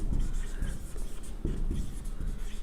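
Marker or chalk scratching across a board during an English grammar lesson, a run of short irregular strokes close by with no talking.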